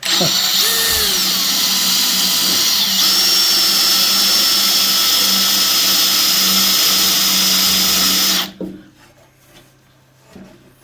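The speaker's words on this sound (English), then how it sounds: "This probably isn't mild steel that we're drilling through now." A loud, whining power drill bores steadily into hard steel on a bandsaw for about eight seconds, then cuts out abruptly, leaving faint clatter and quiet.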